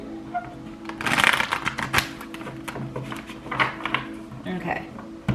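Tarot cards being shuffled by hand, a run of crisp riffling and slapping bursts with short pauses between them, close up and fairly clear. Faint background sound sits underneath.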